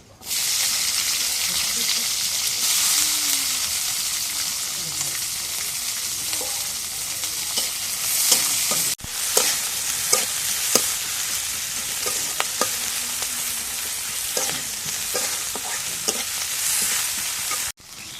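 Onions sizzle steadily in hot oil in a pan, a dense continuous frying hiss with scattered spoon scrapes and clicks. A brief break comes midway before the sizzling resumes, with no talk.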